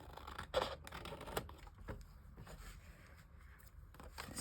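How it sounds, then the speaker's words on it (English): Paper for a handmade card is trimmed in a quiet craft room, with a few faint, brief snips and scrapes of the cutter, then soft rustling and handling noises in between. "I'm going to trim a little more of that"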